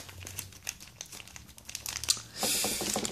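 A small packet of Pokémon cards handled up close, with crisp crinkling and rustling of foil wrapping that swells into a louder burst of crumpling near the end.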